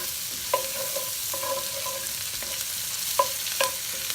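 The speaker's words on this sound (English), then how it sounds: "And I'm going to stir this all around just enough to get these onions to soften." Julienned onions sizzle steadily in a skillet while a utensil scrapes and stirs them in several short strokes, close and alone without voices.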